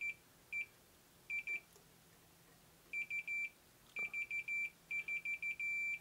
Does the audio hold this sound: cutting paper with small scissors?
no